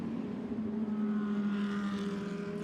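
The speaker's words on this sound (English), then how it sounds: "now accelerates through that little kink, that little wriggle up towards the Sud curve" A Lamborghini GT race car accelerates through a kink toward the Sud curve at Hockenheim, a steady droning engine note heard from a distance, rising slightly in pitch as it pulls away.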